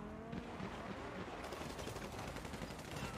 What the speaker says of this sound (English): You guys shot him or what?